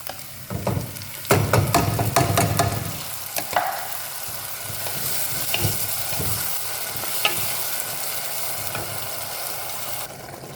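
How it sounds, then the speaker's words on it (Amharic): Ground tomato hits fried onion and garlic in a hot pan with a loud burst of sizzling and stirring, then settles into a steady, softer frying hiss with occasional spoon scrapes, close up. "ሽንኩርቱ ነጭ ሽንኩርቱ ጥብስ ካለ በኋላ እዚህ ጋር የተፈጨ ቲማቲም እጨምራለሁ።"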